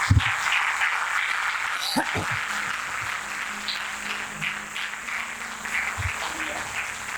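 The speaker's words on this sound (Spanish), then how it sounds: "Denle un aplauso a la palabra de Dios." A church congregation bursts into applause, a dense wash of clapping that holds steadily for several seconds at moderate volume with a few sharper claps near the start.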